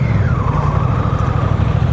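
A Honda Rebel CMX 1100 motorcycle's exhaust rumbles deep and steady at close range, a low continuous drone with a faint rising whine above it.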